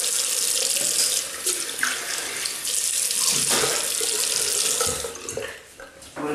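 Tap water runs steadily into a sink for rinsing after a shave with a Yuma double-edge razor, a close, constant splashing stream with no talking.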